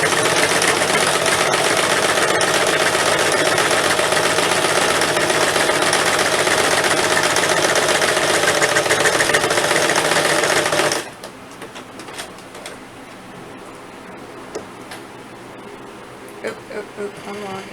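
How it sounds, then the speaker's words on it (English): A sewing machine stitches a fabric rice heating bag in a fast, loud, continuous whir for about eleven seconds, then stops abruptly, leaving quiet handling noises. "So now, back over to the sewing machine. Get my stitches in."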